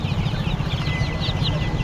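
Chickens at a market stall cluck in a dense, continuous murmur, with brief higher calls over steady background noise; no one speaks.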